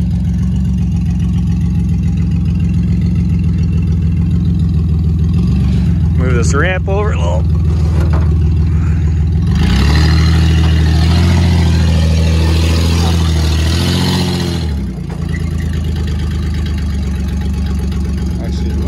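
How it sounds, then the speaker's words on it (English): A Chevrolet Equinox engine idles with a deep, truck-like rumble, then revs loudly for several seconds before settling back, all under close-up talk from people nearby. "Sounds like a truck."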